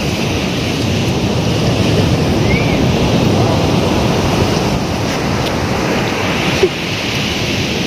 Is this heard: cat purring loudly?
no